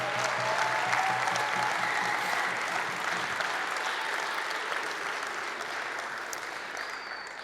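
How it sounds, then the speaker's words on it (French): A conference audience applauds at a plenary session, a dense, even clapping that starts loud and slowly fades over several seconds, with no voices over it. "On vous applaudit."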